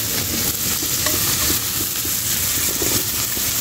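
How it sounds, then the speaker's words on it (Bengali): Chopped tomatoes go into a hot pan for an egg dish, raising a steady loud sizzle and frying hiss with light stirring scrapes throughout, close and continuous without speech. "এখন আমি টমেটো কুচিগুলো দিয়ে দিব"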